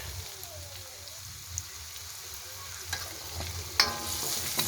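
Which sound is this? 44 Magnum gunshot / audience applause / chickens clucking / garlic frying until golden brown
garlic frying until golden brown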